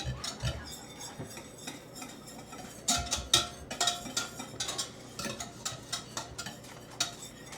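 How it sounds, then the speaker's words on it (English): A spoon scraping and clinking against a pot while stirring a cocoa mixture for a chocolate Coca-Cola cake, irregular metallic taps and scrapes, some sharper knocks midway, close and fairly quiet. "we're just going to stir this until it's nice and melted and creamy."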